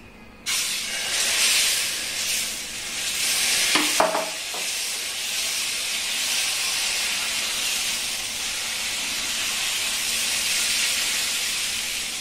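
Batter for a colorful kids' tiffin hits a hot pan and sets off a sudden, loud, steady sizzling hiss that holds for several seconds, with a few brief utensil clinks partway through.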